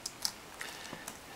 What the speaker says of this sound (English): And then just push the keyboard back into place.